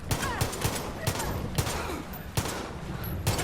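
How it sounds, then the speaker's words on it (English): Handgun shots fired at zombies in Far Cry 5, a string of sharp, punchy cracks at an uneven rhythm, about seven in a few seconds, close and clear over a busy game background. "I'll pop them with a handgun"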